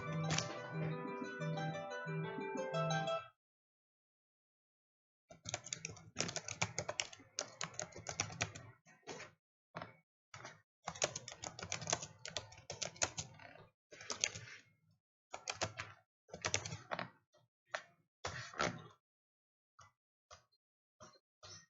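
An address is entered on a computer keyboard in quiet bursts of rapid key taps, broken by short pauses and a longer silent gap near the start, with no talk over it.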